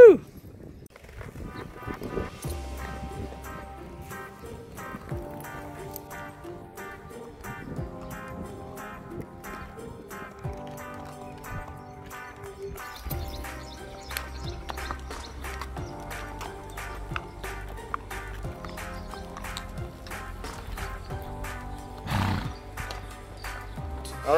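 A horse ridden outdoors gives a neigh and some hoof steps, faint beneath music that plays throughout, with brief talk.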